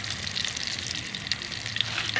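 Steady, close sizzling of an omelette frying in a pan with bell pepper, onion, ginger and garlic, a constant crackling hiss with small pops and no voices.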